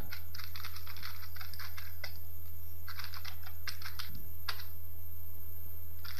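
Rapid typing on a computer keyboard while writing a C program, with steady clusters of key clicks and short pauses over a constant low electrical hum.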